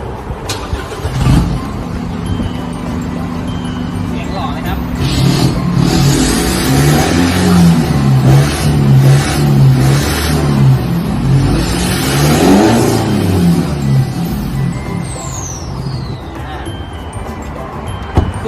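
A car engine revs repeatedly through an aftermarket straight-pipe exhaust, the low exhaust note rising and falling in loud bursts close by, with a faint whine near the end.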